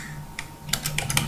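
Close, crisp clicks of number keys being typed on a computer keyboard during spreadsheet work in Excel 2010, a short run of about six quick keystrokes after a brief pause, with no voices.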